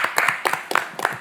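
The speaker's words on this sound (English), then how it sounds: "Can we give them a round of applause?" Scattered clapping at a community meeting, a few sharp bursts of hands close by in an uneven rhythm, brief and fairly light rather than a full roar of applause.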